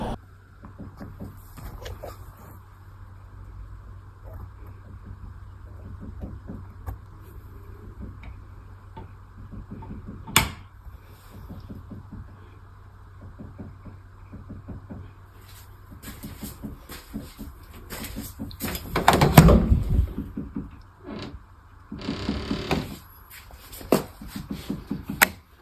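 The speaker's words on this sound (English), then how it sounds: "did film knocking in my bedroom for you on my cell phone" Knocking in a bedroom caught on a cell phone: a long series of faint, irregular ticking taps, with a couple of sharper knocks standing out and a louder rustling burst near the end.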